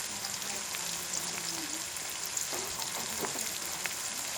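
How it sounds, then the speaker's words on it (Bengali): Whole spices, cinnamon sticks and black and white cardamom, frying in hot oil for a country chicken curry, giving a continuous fine crackling sizzle at moderate volume with no talk. "এখন এগুলো ভালোভাবে ভেজে নিতে হবে"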